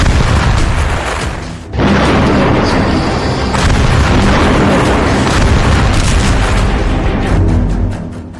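Explosion from an Israeli strike on Hezbollah positions at the Lebanon border: a loud, sustained roaring blast that drops briefly, then swells back and rumbles on heavily for several seconds before easing off.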